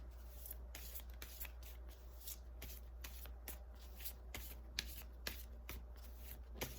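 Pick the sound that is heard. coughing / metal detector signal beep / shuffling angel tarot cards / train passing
shuffling angel tarot cards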